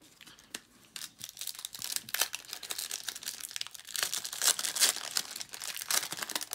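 Baseball card packs being ripped open: dense, close crinkling and tearing of foil wrappers, continuous bursts of crackly rustling throughout.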